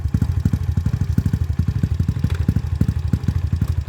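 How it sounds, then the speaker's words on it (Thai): A modified motorcycle with a newly replaced piston and fresh tune runs with a close, loud, rapid rhythmic thumping exhaust pulse throughout, alone without talk. "เบิ้ลเนยดิ ดังไหม"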